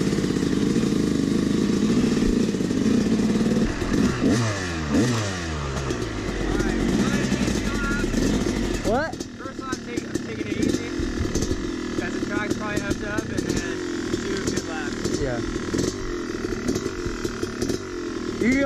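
A dirt bike with a slightly sticking throttle revs repeatedly, its engine pitch sweeping up and down in blips close by, then idles and burbles between bursts while people talk over it.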